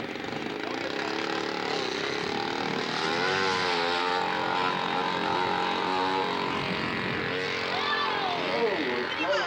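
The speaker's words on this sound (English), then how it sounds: "Motor's still running." A radio-controlled model seaplane engine drones steadily and loudly throughout, its pitch wavering as it runs, with voices talking over it.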